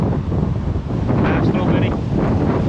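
Loud, constant wind buffeting an outdoor microphone at a strawberry farm, a thick rumbling roar that swells slightly midway and never lets up.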